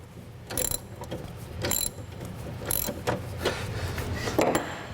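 Bevel lock on a sliding compound miter saw on a stand being loosened, giving a few sharp mechanical ratcheting clicks and clunks spaced about a second apart over a low steady background hum.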